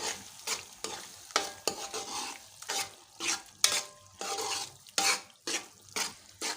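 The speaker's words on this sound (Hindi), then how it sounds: "अंडे डाल के अब मैं मिक्स कर दूंगी" Eggs being stirred into ridge gourd sabzi in a pan on low heat, with a soft sizzle under repeated scraping strokes of a spoon against the metal in an uneven rhythm.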